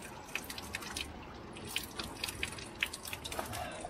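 Cold mountain spring water runs from a roadside tap in the Agul district of Dagestan, a steady wash of splashing and dripping with small sharp plinks, fairly faint against the outdoor background.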